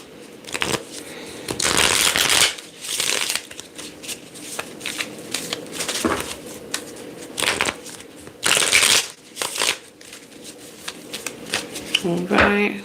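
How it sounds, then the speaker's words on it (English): Several tarot card decks get shuffled at close range, repeated loud papery riffles and slapping bursts with short pauses between them, while a person talks at times. "Let's shuffle these"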